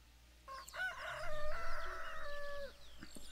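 A rooster crows in the farming video game Pure Farming 2018, one clear, drawn-out cock-a-doodle-doo at moderate distance against a quiet low hum.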